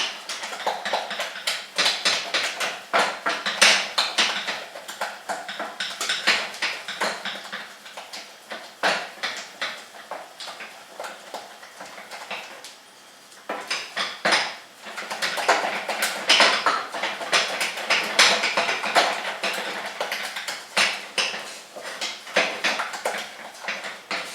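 Choux pastry dough is stirred by hand in a saucepan, a long run of close, irregular tapping and scraping from the utensil against the pot, steady with a short lull midway and no speech.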